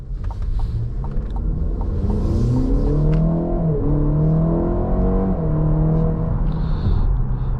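A 2024 Cadillac XT4 Sport AWD drives on the road, its engine rumbling and climbing in pitch as it accelerates, then easing and rising again, loud and close from inside the cabin with no talk.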